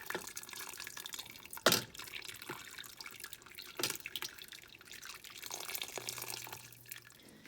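Chili broth for pozole poured through a sieve, a soft, quiet watery trickle with a few sharper splashes and drips, close up and with no talking.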